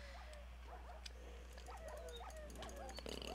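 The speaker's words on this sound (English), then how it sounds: "Dogs." Dogs in a Minecraft Witchery modpack world give short yips and whimpers, repeated through the stretch over a steady low drone, fairly faint and close.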